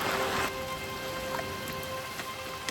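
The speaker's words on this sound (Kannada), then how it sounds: "ಫುಲ್ಲು ಮಳೆ ಜೋರಾಯಿತು." Heavy monsoon rain at a campsite in the Malnad hills near Sakleshpur, a dense, close roar of pouring rain with pattering drops on surfaces, steady and loud throughout with no speech.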